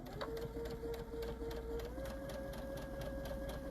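A sewing machine stitches a quarter-inch quilting seam, its needle pulsing in a fast, even rhythm, close and moderately loud, with a steady motor hum underneath.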